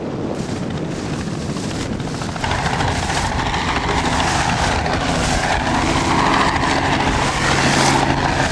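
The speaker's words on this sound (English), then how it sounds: "there was a helicopter doing practice takeoffs and landings" Steady, loud rotor and engine roar from a helicopter doing practice takeoffs and landings near a desalination plant at Botany Bay, continuous throughout with wind buffeting and a slight rise in intensity partway through.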